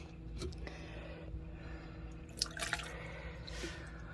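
Water trickles and drips inside a rechargeable cat water fountain, a soft continuous patter with a few sharper drops standing out, fairly close and quiet, with no talking.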